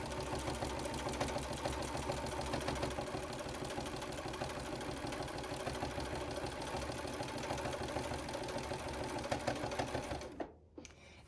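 Sewing machine stitching quilt binding in a fast, steady mechanical rhythm for about ten seconds, then stopping abruptly with a couple of small clicks.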